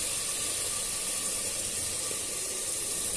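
Oil sizzles in a pan while goat trotters are cooked with chopped onion: a steady, even hiss without a break, fairly quiet and close, with no voices.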